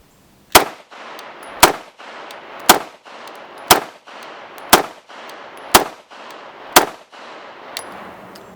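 Seven sharp gunshots from a Glock Model 25 pistol in .380 ACP, fired at a steady pace about one per second, each loud crack followed by a short decaying echo.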